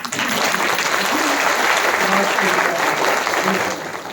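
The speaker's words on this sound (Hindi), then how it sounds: "अपने लिए ताली बजाओ" An audience at a Brahma Kumaris class in Meham claps loudly and steadily for about four seconds, with a dense crowd of hands that fades out at the end.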